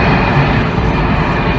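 A loud, close airplane roars overhead in a dense, continuous broadband rumble that holds steady through the whole short stretch.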